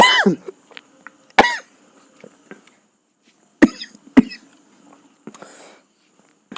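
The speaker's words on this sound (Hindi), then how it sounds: "सॉरी बच्चों, खांसी हो गई थोड़ा" A few sharp coughs from a maths teacher during a Hindi-language trigonometry lesson, one close and loud at the start, then several more scattered through, with quiet gaps and faint throat noises between.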